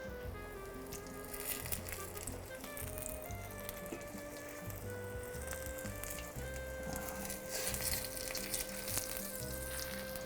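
Slices for a sabich sandwich fry in hot oil, giving a steady, close crackling sizzle that runs unbroken throughout, with background music playing underneath.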